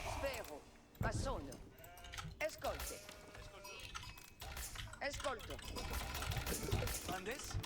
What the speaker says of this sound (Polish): Ok, więcej owiec znalezionych, bardzo dobrze.